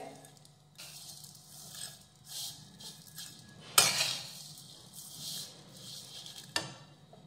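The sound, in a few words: vermicelli roasting in ghee on low flame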